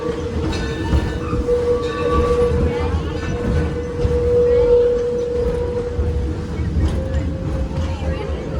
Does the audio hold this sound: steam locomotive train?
yes